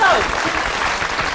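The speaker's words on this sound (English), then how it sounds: "Couldn't even be bothered with some canned applause, eh?" A short burst of applause-like clapping, dense and steady, with a voice speaking over it at the start.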